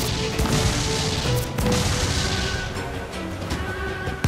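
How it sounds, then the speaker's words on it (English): Cannon fire during a naval battle in the video game Assassin's Creed Freedom Cry, a dense continuous barrage of booms and crashes layered over one another, loud and sustained throughout. "Fire! Their cannon! Get out of range!"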